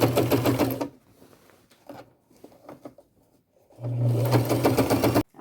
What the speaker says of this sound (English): I will use my largest zigzag stitch to get that all sewn on.